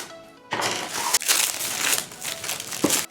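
Plastic packaging on a Cricut Explore 3 machine being handled and pulled off during unboxing, close, loud bursts of crinkling and crunching that come in rough waves, with a sharp crackle near the end and no speech.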